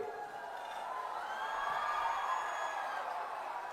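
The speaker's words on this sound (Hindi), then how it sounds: "जोरदार तालियों से इनका स्वागत कीजिए" A crowd at a political rally in Gaighat, Bihar, cheering and applauding to welcome a speaker: a steady, diffuse wash of sound at a distance, swelling slightly midway.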